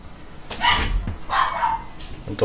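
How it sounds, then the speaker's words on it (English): A dog barks at fireworks going off outside, giving three short, loud barks spaced about a second apart, each with a yelpy edge, and nobody speaks. "The dog is celebrating the fireworks outside."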